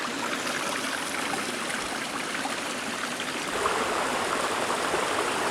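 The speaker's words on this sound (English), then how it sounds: "Nice brook right away" Mountain brook beside a hiking trail on Mt. Mansfield, a steady broadband rush of flowing water heard alone and close, unbroken throughout.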